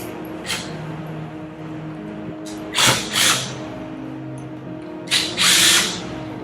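A power driver fitted with a 3/16 bit backs bolts out of the air valve on a metal bolted Wilden air-operated double-diaphragm pump, with short whirring bursts separated by pauses and a steady low hum underneath.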